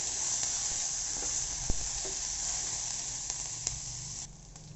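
Green chilli and grated ginger sauté in a pan for lemon rice, a steady broad sizzle running throughout with a few faint spoon clicks and taps, close and even, no voices.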